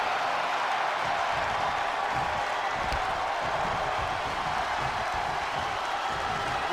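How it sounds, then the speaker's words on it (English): A wrestling arena crowd at a televised match roars in a loud, continuous wall of cheering and noise that holds steady throughout, with no clear break. "The sound of this crowd is deafening, and he's asking for more."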